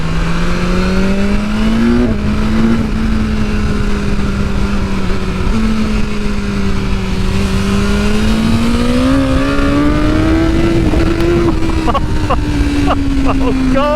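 A 2022 BMW S1000 motorcycle in dynamic pro mode accelerates hard, its engine droning loud and steady with rising and falling revs and quick gear changes, heard from the rider's position with wind noise throughout.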